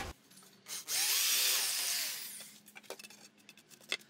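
A power drill bores a hole through a wooden part for a homemade easel, a loud sustained whine lasting about a second and a half, followed by quieter scraping and handling noises close by.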